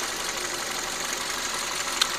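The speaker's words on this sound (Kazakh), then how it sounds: "Мотор ровно иштеп турат." A car engine idles with a steady, even hum and faint vibration, a short click near the end.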